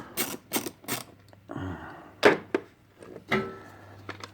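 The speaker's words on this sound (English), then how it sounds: "Right now I am loosening my 3 Torx bolts that are on the top of the cover for the ECM" Torx bolts are loosened on the ECM cover of an Audi B8, producing a close series of sharp ratcheting clicks and metallic ticks in uneven bursts with short pauses between them.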